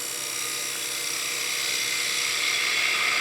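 A spindle gouge cuts a wooden Christmas gnome spinning on a lathe, giving a steady, bright, hissing whine that stays loud and unbroken throughout.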